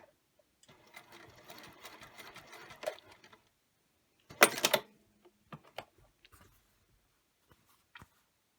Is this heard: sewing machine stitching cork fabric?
yes